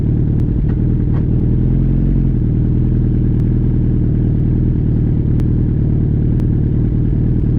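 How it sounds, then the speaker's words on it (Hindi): A rider's Hayabusa motorcycle engine rumbles loud and close throughout, with a steady low drone, a brief shift in pitch early on and sharp clicks scattered over it on an early morning road. "गई थी वो बाइक अभी"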